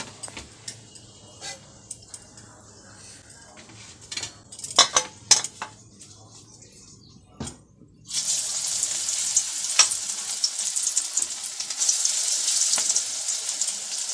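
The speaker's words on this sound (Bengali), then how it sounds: "আরও আছে, এগুলো আমি ভেজে নেব।" Fritters of egg and karmi greens fry in a pan of oil in a home kitchen: scattered utensil clinks and taps at first, then a loud, continuous crackling sizzle that fills the rest, with no speech.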